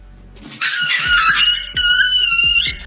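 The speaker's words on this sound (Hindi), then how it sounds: "ये पपी इस तरह चिल्लाने लगा मानो बिल्ली ने उस पर हमला ही कर दिया हो" Puppy yelping after being scared by a cat, two loud, high, drawn-out cries one after the other, close and alone.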